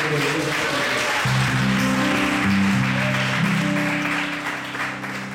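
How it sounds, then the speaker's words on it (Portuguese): A church congregation applauds during an Assembleia de Deus service, a broad wash of clapping with a sustained tonal hum beneath it that fades slightly toward the end. "Vamos dar um aplauso a Jesus"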